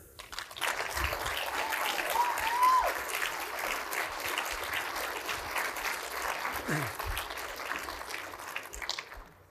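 Audience applause after a former Air Force KC-135 pilot is introduced at an Eighth Air Force event: a steady, fairly loud wash of clapping that runs throughout, with a brief whistle-like tone early on.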